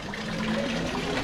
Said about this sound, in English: Look there, beautiful fountain